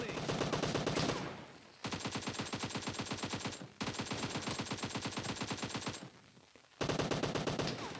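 Rapid automatic gunfire in PUBG Mobile, long dense bursts of evenly spaced shots separated by brief pauses, loud and continuous.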